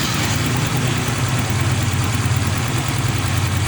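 A car engine runs at a cold idle, a steady low rumble with slight rhythmic vibration that stays loud and even throughout, with no talk over it.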